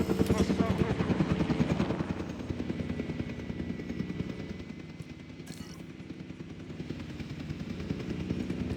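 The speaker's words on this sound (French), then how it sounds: "J'adore leurs hélicos de transport." Transport helicopter in the video game Jurassic World Evolution 2, a steady whirring rotor drone with rapid chopping pulses running throughout at moderate loudness, mixed with game background sound.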